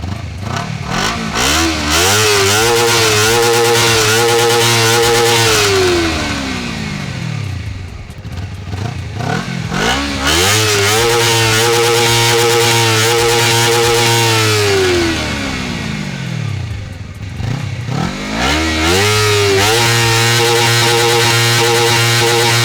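A Honda CBR250RR motorcycle's exhaust revved hard three times, each rev climbing to a high screaming pitch, holding, then dropping back to idle, close and loud with no talking.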